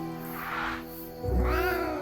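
A cat meows in the video game Royal Tales 2, two drawn-out tonal cries, the second rising after a short pause, set over a steady game music bed.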